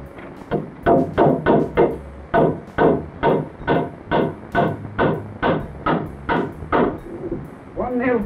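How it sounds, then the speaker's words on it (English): Hammer driving nails into a wooden joist and post for a basement fallout shelter frame, a steady run of about fifteen loud, evenly spaced close blows. "One nail from that side and two from underneath."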